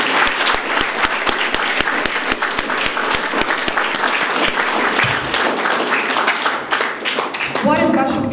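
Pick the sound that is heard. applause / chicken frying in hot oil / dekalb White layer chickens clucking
applause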